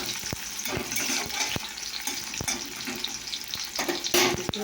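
Sliced onion frying in hot oil in a pan gives a steady close sizzle and crackle, with a few sharp knocks of a spatula stirring against the pan.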